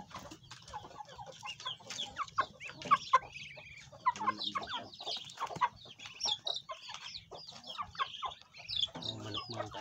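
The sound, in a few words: chicken clucking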